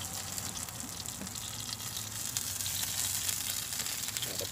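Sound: chicken sizzling on a BBQ grill

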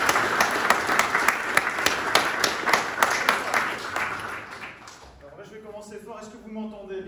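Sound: audience applause

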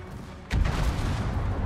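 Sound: warship naval gunfire, World of Warships video game

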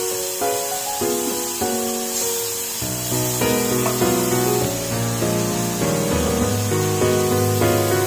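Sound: prawns frying lightly in a pan

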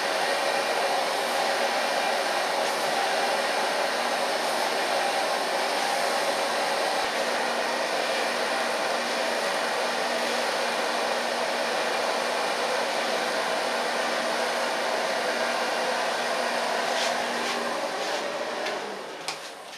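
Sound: blow dryer

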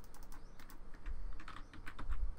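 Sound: computer mouse clicking while playing House Flipper

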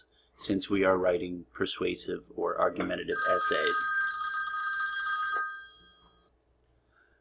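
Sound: telephone ringing, incoming phone call

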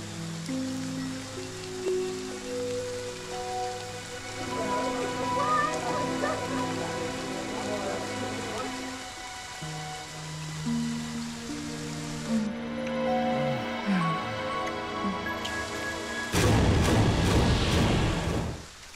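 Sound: rain in the video game Friday the 13th

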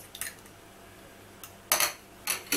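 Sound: mixing broccoli gratin ingredients with cheese in a dish

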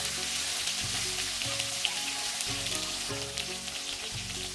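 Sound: hilsa fish frying in oil

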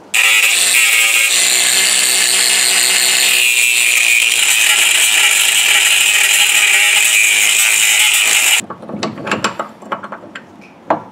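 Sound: grinding down a Camaro spindle with a power grinder

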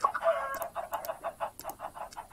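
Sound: chickens clucking in the video game Minecraft

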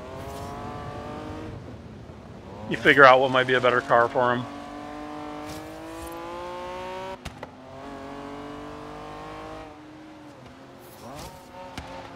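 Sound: Honda NSX car engine off-road, Forza Horizon video game

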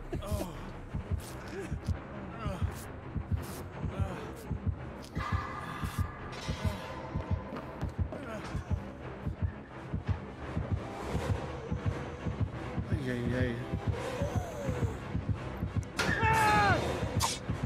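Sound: heartbeat sound in video game Dead by Daylight

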